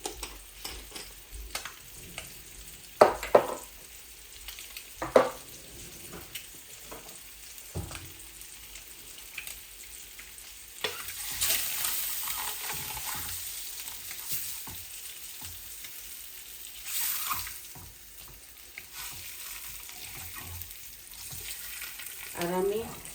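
Eggs frying in oil with fennel seeds and cumin, a low steady sizzle with occasional clicks and stirring scrapes, growing a bit louder and hissier partway through, with no talking.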